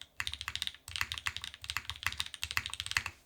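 Rapid, steady keystrokes on a modded HHKB mechanical keyboard with GMK Star keycaps, close and crisp, sounding in bursts with short pauses and no voices.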